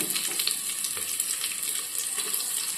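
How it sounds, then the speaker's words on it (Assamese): Onions fry in oil in a pot for pulao, a close, even hiss of sizzling with faint watery crackle throughout and no talk. "আগতে পোলাও বনালে এনেকৈ তেলত চেনি অকণো দি দিওঁ তেতিয়া মানে খাবলৈ আৰু সোৱাদ হয়"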